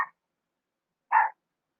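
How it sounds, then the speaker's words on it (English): Two short, sharp barks separated by about a second of silence, fairly close and clear. "Oh, come on, what you barking at?"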